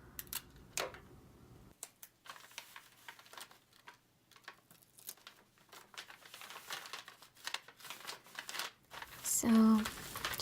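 Gift wrapping tape is pulled and pressed onto wrapping paper in a quiet indoor setting, giving sharp ripping pulls and soft crinkly paper rustles with brief pauses between them.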